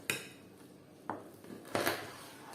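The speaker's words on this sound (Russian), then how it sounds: "Для начала мы мясо куриное порежем на кусочки." Knife cutting raw chicken meat into pieces on a board, three or four sharp taps and clicks spaced about half a second apart, close and fairly quiet, no talking.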